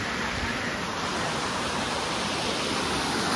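A hill river rushes steadily over rocks, a dense, continuous roar of flowing water close by with no break or voices for the whole stretch.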